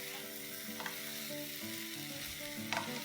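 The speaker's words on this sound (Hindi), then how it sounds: "आप देख सकते हैं सब्जी कैसे पक रही है" Carrot and green peas curry cooking in a pan, a steady close sizzle with faint bubbling and occasional light scraping or stirring sounds, no voices.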